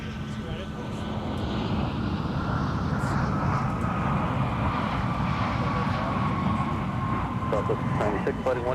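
An airplane at Minneapolis airport roars with a broad, steady engine rumble that swells and holds, heard close under tower radio chatter.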